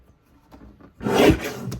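A paper trimmer slices through a cardstock panel in one short, raspy cut that rises and fades within a second, close by and fairly quiet, with faint handling noises just before it.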